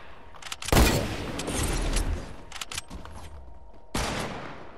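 Gunfire in the Fortnite video game: a loud shot blast near the start, then a sustained rumble and a second blast about three seconds later, with no voices.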